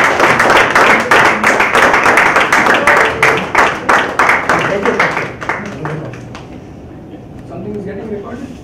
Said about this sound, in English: So round of applause for VP Sendhil.